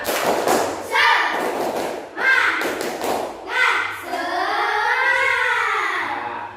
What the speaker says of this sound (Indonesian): sebelum pelajaran, tepuk semangat